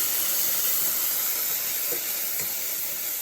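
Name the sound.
sauce hissing as it goes into a hot pan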